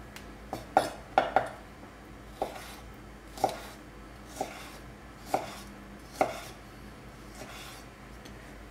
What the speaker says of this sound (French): On va maintenant couper la tomate donc en petits cubes.